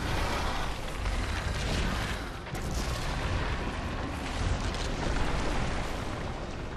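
Dragon in The Witcher 2 breathing fire: a loud, continuous roaring blast that churns on for several seconds with no speech.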